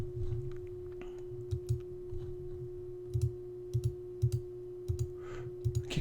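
Buttons on a graphing calculator being pressed, heard as sparse, light, close clicks in small irregular clusters over a steady faint electronic tone and low background hum, with no talking.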